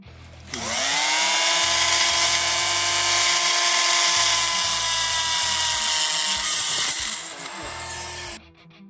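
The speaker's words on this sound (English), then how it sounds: "get a grinder with a cutting wheel, and you're going to cut a line through it" An angle grinder with a cutting wheel bites into a stuck bolt on a 20-year-old TRX250R quad, a loud, steady high-pitched whine for about eight seconds before cutting off abruptly.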